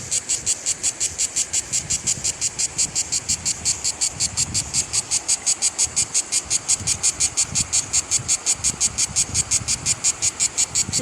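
A cicada sings overhead in a rapid pulsing buzz, loud and regular, with each throbbing beat repeating steadily and continuing without a break.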